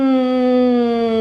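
A voice hums a steady, sustained drone imitating an aeroplane, held evenly for about a second.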